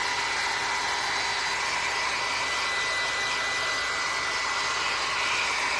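A hair dryer blows in a steady, loud, unbroken whoosh while it dries fresh paint on the spines of books, close up and alone, with no talking.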